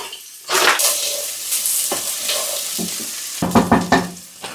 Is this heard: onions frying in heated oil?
yes